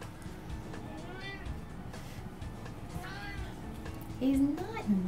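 A pet cat meows several times, with soft, drawn-out calls early on and a louder, rising meow near the end, while a person talks quietly in the background.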